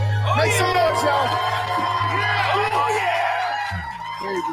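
Live show audience cheering, whooping and shouting in a sustained loud roar over a steady low hum, with a voice briefly audible through the noise.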